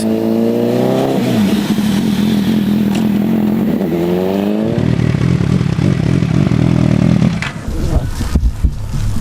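An MV Agusta Brutale motorcycle engine revs loudly and repeatedly, climbing in pitch, dropping back to a rough idle, then revving again close by.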